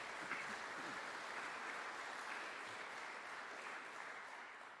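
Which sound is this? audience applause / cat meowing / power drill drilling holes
audience applause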